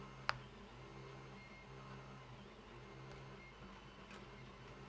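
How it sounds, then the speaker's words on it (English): A Blocks Zero 3D printer runs quietly, its stepper motors giving a faint steady tonal whir with a soft low hum, and one sharp click near the start. "it's very difficult to see that it's printing"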